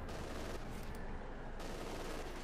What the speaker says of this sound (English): Full volley on the Panther.